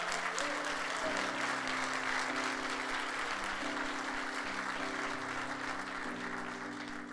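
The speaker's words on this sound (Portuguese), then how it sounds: "Dá um aplauso aí ao Senhor." Congregation clapping in a church, a steady wash of applause over a held organ or keyboard chord progression, heard fairly faintly from start to finish.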